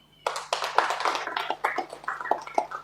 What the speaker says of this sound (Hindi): उनके लिए ताली जरूर बजाइए